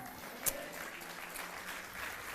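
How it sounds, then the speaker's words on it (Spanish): Church congregation applauding during a sermon, a steady wash of clapping with one sharper burst near the start, moderately distant and fairly quiet. "Si le vas a dar ese aplauso, dáselo bien al Señor."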